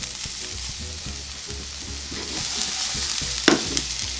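Carrots fry in very hot butter in a pan, a steady close sizzle with rhythmic stirring scrapes and a sharper clatter near the end, no voices.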